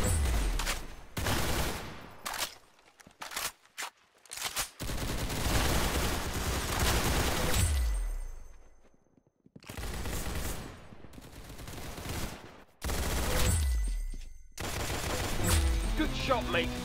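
Gunfire in the Roblox shooter Arsenal: repeated bursts of loud, close shots, some in rapid volleys, broken by brief gaps, with voices talking during the action.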